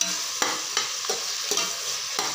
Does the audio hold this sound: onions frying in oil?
yes